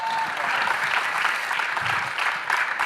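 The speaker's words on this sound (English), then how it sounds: "Big round of applause, please" Audience applauding at a startup accelerator pitch event, a dense steady wash of clapping hands filling the room for a few seconds, fairly loud and close.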